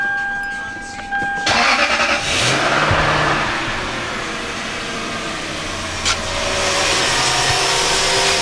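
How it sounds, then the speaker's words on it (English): A Lexus LS430 engine cranks and catches after timing belt and water pump work, then revs up loudly before settling into a steady running hum, with a brief clank later on. "So now we're gonna try to start it up, hopefully it goes good."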